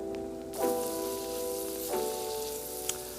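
Teriyaki steak hibachi stir-fry steaming and sizzling in a pan: a steady frying hiss that swells when the food hits the pan, with two short bursts followed by a sustained tonal whine and a small tap near the end.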